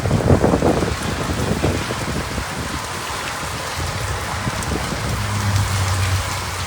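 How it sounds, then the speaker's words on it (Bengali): Heavy rain pours steadily during a sudden storm at a riverside speedboat crossing under a sea storm warning, with wind and rough water; a loud, constant dense hiss of drops with no speech. "এখন যে পরিমাণ বৃষ্টি হচ্ছে"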